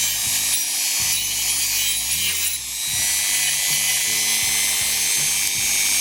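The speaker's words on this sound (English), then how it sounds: "Back on the Dremel again. Running it up and down the length." A Dremel rotary tool works along the wood of a German Black Forest cuckoo clock, a loud continuous grinding whine with repeated rhythmic scraping strokes and no speech.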